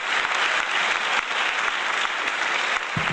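Steady, dense applause from a large audience at the Indywood Film Carnival at Ramoji Film City in Hyderabad, welcoming a guest onstage; continuous, even clapping throughout with no voices on top.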